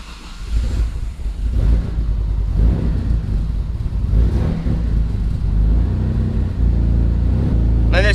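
Mitsubishi 3000GT twin-turbo car engine with an upgraded adjustable wastegate, revving up and rumbling steadily as it sets off on a drive, loud and close throughout with no talk.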